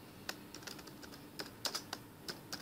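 Light, quick keystrokes on a computer keyboard click in short irregular bursts, faint and close, with no voices.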